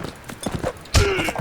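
Horse hooves clip-clop in a Mount and Blade Warband battle, a quick run of close, hollow thuds with a heavier impact near the end, mixed with faint game clatter.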